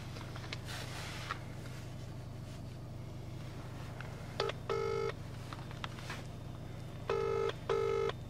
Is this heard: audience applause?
no